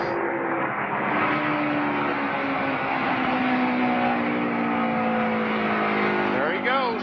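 Onboard sound from a NASCAR Cup Series race car at Pocono in 2005, a loud, continuous engine drone holding a steady pitch at speed, with commentators talking over it.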